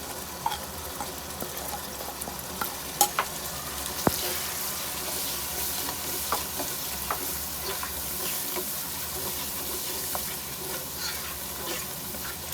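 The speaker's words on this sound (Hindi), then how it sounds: "मसाले को अच्छी तरह भून लेते हैं।" Ground chilli, salt, turmeric and coriander spices frying in a pan for kofta curry, a steady soft sizzle with occasional stirring clinks and scrapes, close and fairly quiet throughout.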